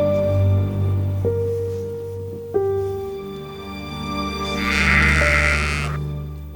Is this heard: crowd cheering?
no